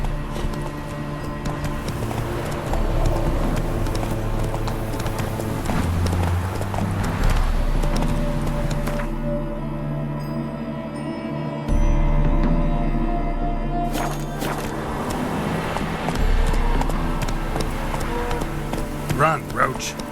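Roach, Geralt's horse in The Witcher 3: Wild Hunt, gallops with a steady clip-clop of hooves under in-game music. The rhythm drops away and then comes back, and a voice speaks over it.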